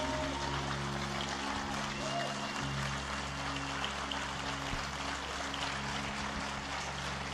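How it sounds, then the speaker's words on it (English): Sustained applause from a crowd at a funeral gathering, a steady dense wash of clapping that fills the whole stretch with a low hum underneath. "Standing ovation, please."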